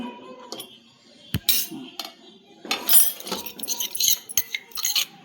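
A spoon clinks and scrapes against a metal pan while masala, turmeric and coriander powder are stirred together for pav bhaji, giving irregular close metallic taps and scraping rattles.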